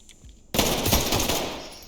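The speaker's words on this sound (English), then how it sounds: "We're just gonna shotgun that open." In the game Ready or Not, a loud close blast fires as a shotgun breaches a door, followed by a sustained rattling roar of splintering debris and gunfire that slowly fades.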